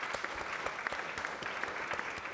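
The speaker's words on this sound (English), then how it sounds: "A warm round of applause, please." An audience applauds panelists after a discussion on AI and the future of work. A dense, moderately quiet patter of many hands continues throughout without talk.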